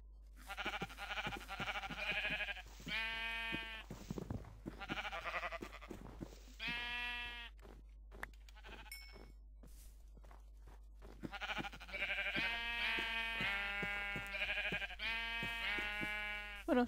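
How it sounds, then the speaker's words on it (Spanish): Video game sheep bleating repeatedly while being struck, a series of clear, close, wavering bleats in bursts with short pauses and small impact sounds between them. "Mientras que yo sigo pegándole a las ovejas"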